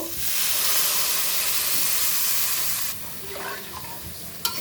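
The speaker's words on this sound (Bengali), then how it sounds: "ডাল আর সবজি একটু ভেজে নিলাম দেখো এখন জল দিয়ে দিব" Water poured into a hot pan of frying dal and vegetables gives a loud, steady burst of steam and sizzling hiss that drops off sharply partway, followed by quieter bubbling and a few light clinks near the end.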